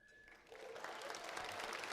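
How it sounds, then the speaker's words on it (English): Audience applause at an awards ceremony, clapping swelling from a quiet start into a steady, dense roar from a large crowd, fairly close and sustained. "It's okay to clap for the suit, yes."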